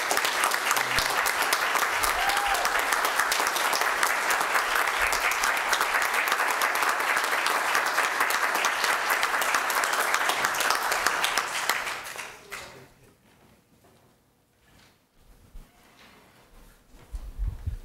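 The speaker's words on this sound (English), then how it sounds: "let's applaud, all right?" A congregation at an ordination service breaks into sustained, full applause for about twelve seconds before the clapping fades away into the quiet room.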